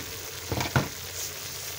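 Pork stir-fries in a pan for Thai pad kaprao, giving a faint, steady sizzle broken by two quick stirring scrapes.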